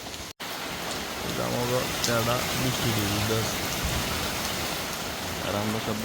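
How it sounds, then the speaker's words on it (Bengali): Steady heavy rain hisses throughout, with people talking over the constant downpour. "এখানে ভরপুর বৃষ্টি আজকে"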